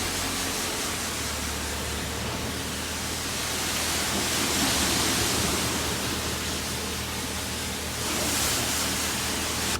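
A water spray rinses soap off a car, giving a steady, broad hiss that swells a little in places and runs nonstop throughout with no voices.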